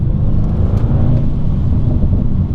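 An Audi RS6 GT performance wagon on the road, heard as a steady loud low engine rumble and road noise from inside the car, with no talk over it.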